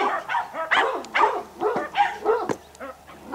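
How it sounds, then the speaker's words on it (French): Dogs bark in a rural field setting, in a run of close, loud, repeated barks and yips at an uneven rhythm, with no talking. "C'est pour ça que les chiens jappaient."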